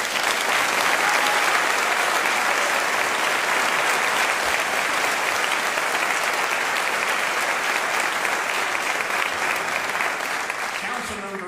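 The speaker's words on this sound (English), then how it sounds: "Let's give our police department a round of applause." A large audience at a city State of the City address gives the police department a loud, sustained round of applause, a thick unbroken roar of clapping that tapers slightly at the very end.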